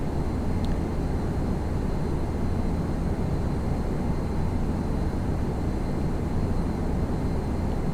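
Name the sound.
Cessna plane flying over in a flight simulator game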